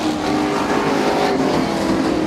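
A race car on a speedway track: a loud, continuous engine roar with a steady high whine fills the whole stretch and sounds close, with no talk over it.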